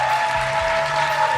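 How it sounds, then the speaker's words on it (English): Applause from a podcast live-show audience, a steady broadband wash of clapping at moderate level with a faint tonal hum running beneath it, sustained through the whole short stretch. "big round of applause for George"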